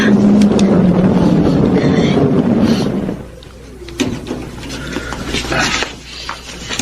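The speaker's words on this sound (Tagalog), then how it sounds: "may palapit na kotse." A car approaches at night in a drama scene. A low engine rumble runs for a few seconds and then drops away, with voices and scattered background noise afterward.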